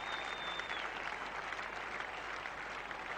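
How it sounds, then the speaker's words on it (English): Applause at a 1987 England versus Pakistan cricket test match, a steady, distant wash of crowd clapping that holds even and faint throughout. "Applause from Javed, from his teammates."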